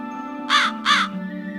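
An animated crow gives two distinct, loud caws in quick succession over a steady tonal music bed, with no talking.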